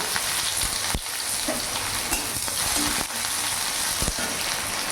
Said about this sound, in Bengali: ফোড়নটা ভাজা হয়ে গেছে, এর মধ্যে পেঁয়াজ কুচি একটা দিয়ে দিলাম।